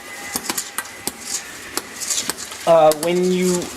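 Candy popcorn stirred slowly in a pot, with a run of scraping and tapping strokes against the metal, then a voice speaking briefly near the end.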